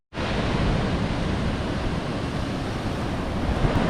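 Ocean surf rolls onto a black sand beach in Costa Rica, a steady, loud wash of breaking waves filling the whole stretch without pause, with no voices over it.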